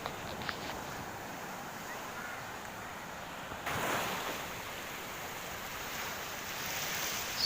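Large sea waves surge and break on Mypadu Beach near Nellore, a steady loud roar of surf mixed with wind buffeting the microphone, swelling noticeably midway and staying heavy to the end.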